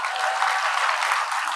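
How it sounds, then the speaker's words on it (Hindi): An audience at a Haryanvi kavi sammelan poetry gathering breaks into dense, steady applause that stays at an even level for its whole short span. "बजाओ तालियां एक बार।"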